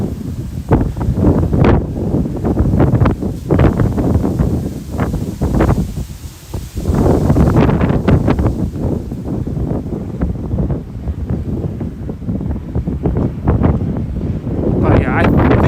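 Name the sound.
winter wind at night in New York City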